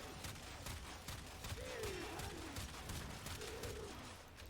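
Kuva Drakgoon flak weapon in the video game Warframe firing in a rapid, steady stream of crackling bursts, with a couple of brief chirpy effect sounds over the top.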